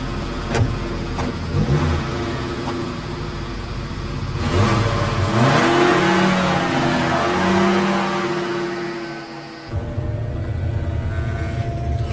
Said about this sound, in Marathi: गाडी फिरव रे लवकर.